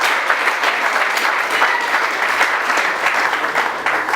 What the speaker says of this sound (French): Can you put our hands together? Est-ce que nous pouvons applaudir?